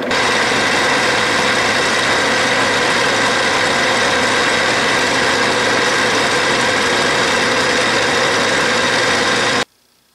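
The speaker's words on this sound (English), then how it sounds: "here's the finishing pass, and I'm only taking off 3 or 4 thousandths" A Bridgeport milling machine takes a light finishing pass on a chamfer, shaving off a few thousandths. A loud, steady mechanical whir and hum holds throughout, then cuts off abruptly just before the end.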